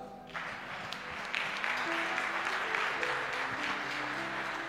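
Church congregation breaking into applause to acclaim Jesus at a prayer service: clapping swells in after a brief quiet start and continues steadily at moderate loudness, with low instrumental tones beneath.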